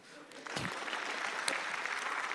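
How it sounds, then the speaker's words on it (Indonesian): An audience at an Indonesian stand-up comedy show applauds, a steady wash of clapping that swells after a moment and holds at moderate level. "Tepuk tangan untuk pemerintah"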